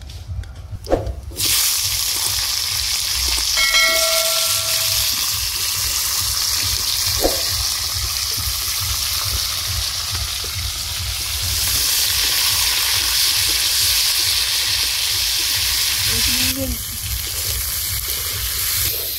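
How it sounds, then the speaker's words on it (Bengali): Beans, potato and eggplant frying in hot oil in a wok, a steady broad sizzle running the whole time with a few brief clinks near the start. "শিম আলু বেগুন দিয়ে দিচ্ছি।"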